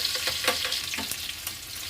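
Chopped onions frying in hot oil for a tadka, sizzling steadily with a few soft stirring scrapes, close and continuous with no talk.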